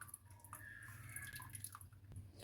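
Water drips and trickles from paneer being wrung out in a cloth, a soft, close patter of droplets over a quiet background.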